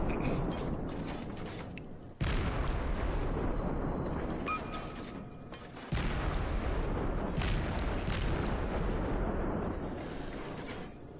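Naval gunfire in the World of Warships game: shells fired from ships at sea in heavy, sustained booming salvos with two sharp new volleys, a dense rumbling roar that slowly tails off, with no talking.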